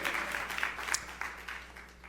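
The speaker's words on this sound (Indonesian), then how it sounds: "Tepuk tangan sorak-sorai yang paling meriah buat Allah kita" Church congregation clapping and cheering in praise, a brief burst of steady applause that fades over about two seconds.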